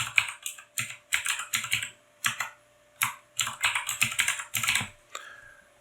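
Bursts of clicking keystrokes on a computer keyboard while a new password is typed for a Microsoft Teams Rooms system, coming in short irregular clusters with brief pauses, close and clear, no talking.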